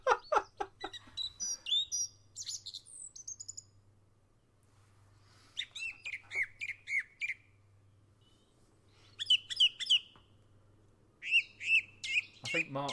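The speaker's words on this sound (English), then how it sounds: "Oyster catcher." Loud, piercing piping calls of an oystercatcher ring out in rapid repeated series, separated by pauses, with a few other bird chirps and a faint low hum beneath.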